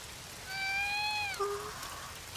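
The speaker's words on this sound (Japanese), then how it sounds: "捨て猫か。 まだちっちゃい。" Small abandoned kitten in an anime gives a single thin, plaintive meow, fairly close, over a soft steady hiss of rain.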